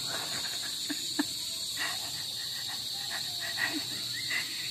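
Crickets chirp steadily in a high continuous drone, with a few faint distant knocks and calls in the quiet night background.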